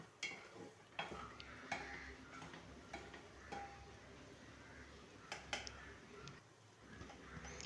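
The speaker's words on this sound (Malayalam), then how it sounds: "ഇനി തക്കാളി ഇട്ട് നല്ലപോലെ ഇളക്കിയെടുക്കാം." Tomatoes being stirred into chili powder frying in a pan for chicken curry, a steady low sizzle broken by scraping stirs and occasional clinks of a spoon against the pot, close and moderately quiet.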